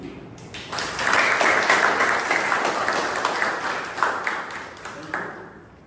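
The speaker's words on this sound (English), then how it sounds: "let's have a big round of applause for our new EC" A Toastmasters club meeting audience gives a round of applause for the new executive committee, dense clapping rising quickly and sustained for several seconds before thinning out at the end.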